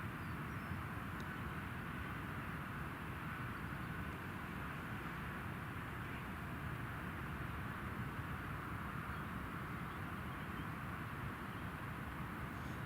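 Loganair airliner coming in to land at Newcastle International Airport, a steady broad engine roar at moderate distance, sustained evenly without any talk.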